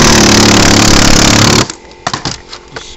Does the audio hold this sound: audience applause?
no